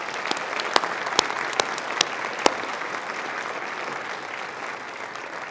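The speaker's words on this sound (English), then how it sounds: "would you please join me in a round of applause for all of these individuals?" An audience at a December 2017 graduate commencement at Chadron State College claps in a round of applause, a broad wash of clapping with a few sharp, close individual claps standing out early before it settles into a steady patter.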